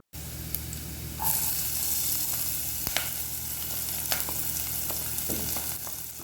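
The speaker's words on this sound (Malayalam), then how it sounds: "നമുക്കിതിലേക്ക് കട്ട് ചെയ്ത് വെച്ച സവാള ചേർത്ത് കൊടുക്കാം" Sliced onions hit hot oil with ginger and garlic for a dal palak dish. A quiet start bursts into a loud, steady sizzle, with occasional sharp clinks of a stirring utensil against the pan.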